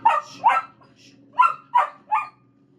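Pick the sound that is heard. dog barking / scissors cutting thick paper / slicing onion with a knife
dog barking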